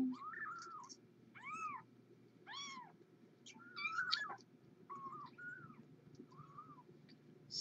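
Several small, high-pitched kitten meows in a row, each short and rising, spaced irregularly over a steady low background hum.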